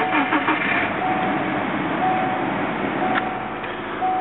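A 2000 Subaru Forester engine idling after an engine swap with no knock, a steady even rumble with faint ticking, heard close and continuous.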